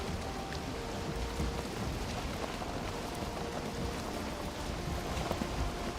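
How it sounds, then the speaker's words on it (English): Steady rain hisses throughout a video game storm, with low rumbles of thunder underneath at a moderate, even level. "Gonna get a storm."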